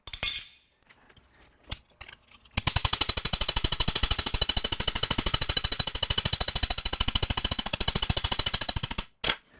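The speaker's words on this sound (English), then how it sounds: "I'll start that by hammering against the T-dolly" Rapid, rhythmic metallic hammering on sheet metal held against a T-dolly, a few scattered taps first, then a sustained fast run of sharp ringing blows that stops abruptly.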